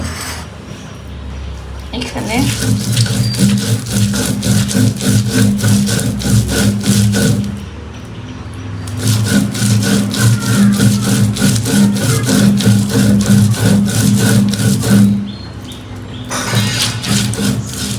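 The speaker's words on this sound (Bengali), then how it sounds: "এখন আমি শুটকিগুলো বেটে নেবো" Dried fish being ground by hand on a flat grinding stone, a loud, steady rhythmic scraping and rubbing that runs in close strokes, pausing briefly twice before resuming.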